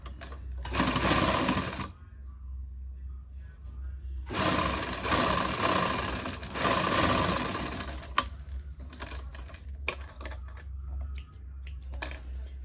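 A sewing machine stitching the shoulder seam of a kurti, running in two long steady bursts with a short pause between them, followed by scattered clicks and handling taps.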